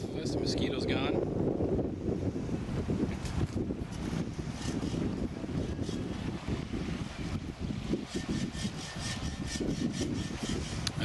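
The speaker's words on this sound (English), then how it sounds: "Really nice and windy out here is what we like." Wind blowing across a hilltop peninsula campsite among tall trees in Algonquin Park, a steady close rushing buffet against the microphone with gusts rising and falling throughout, and a few faint voices underneath.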